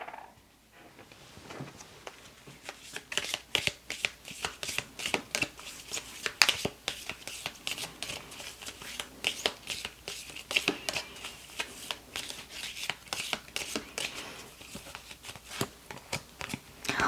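Tarot cards being shuffled for a reading, a dense run of crisp riffling snaps and soft slides repeating steadily through the whole stretch, close and fairly quiet with no voice over it.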